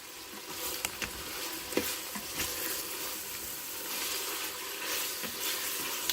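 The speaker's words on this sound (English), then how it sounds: "Looks like meat and sizzle." Meat sautes in an Instant Pot, giving a continuous close sizzle and crackle with scattered pops and stirring clicks, no voices.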